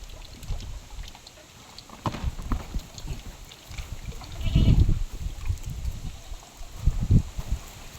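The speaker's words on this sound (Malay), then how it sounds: "Marah kat geng kambing tu. Mereka tak mau masuk dalam kandang" Goats on a farm give low bleats and grunts at close range, with shuffling and movement between calls and a louder bleat in the middle.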